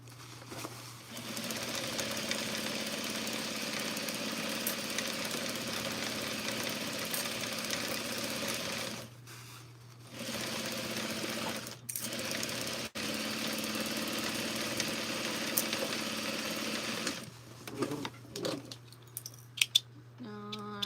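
A sewing machine stitches a trouser inseam in long, steady whirring runs, broken by brief pauses and a few light clicks and thread-handling noises, close and fairly quiet, with no speech.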